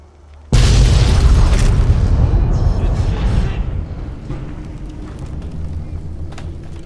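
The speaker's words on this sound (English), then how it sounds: "Guy must have had some kind of explosive on him. Set off all the ordnance in this place at once." In Fallout New Vegas, a massive ordnance explosion hits suddenly with a deep, loud boom, then rumbles and slowly decays for several seconds into a lingering low roar.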